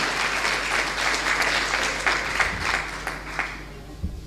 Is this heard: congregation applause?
yes